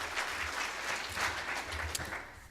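Audience applause at a Manufacturing Day event, steady clapping from a crowd with a few sharper individual claps standing out, moderately loud throughout.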